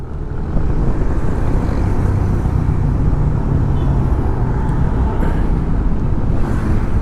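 Heavy road traffic on the route from Mabalacat to Dau in Pampanga produces a loud, continuous roar of many passing vehicles, a dense, unbroken wash of engine and tire noise with no clear gaps.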